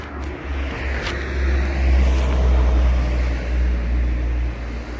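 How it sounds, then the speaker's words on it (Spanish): Steady low traffic rumble of cars passing on a road beside a river, continuous and moderately loud, with a broad wash of flowing water beneath it and no talking. "Acá se escucha un poco el río y acá pasan los autos."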